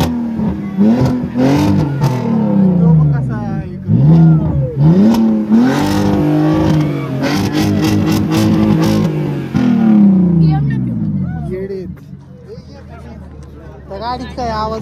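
A vintage car engine revs near at hand in Pune, its pitch rising and falling through several surges before settling toward a lower idle, with people talking over it most of the time.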